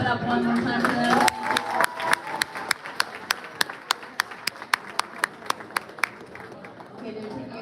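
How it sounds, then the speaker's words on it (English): At a school sports awards dinner, a few people clap briefly while voices and crowd chatter carry on, then a single pair of hands claps in a steady, loud, evenly spaced rhythm over the murmuring room. "Girls basketball, please clap it up one more time for them."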